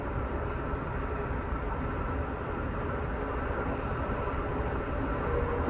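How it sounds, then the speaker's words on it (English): Amtrak's Empire Builder rolls along the BNSF Highline Subdivision near Chester, Montana, with a steady, loud interior rumble and continuous wheel-on-rail roar heard from aboard the train. "We're aboard Amtrak Train 7, the Empire Builder, headed from Chicago to Seattle, Washington, and Portland, Oregon."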